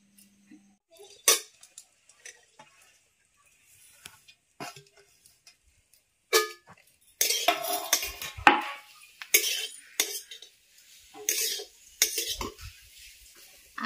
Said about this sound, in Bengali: এখন আমি নারকেলটা ভেজে নেব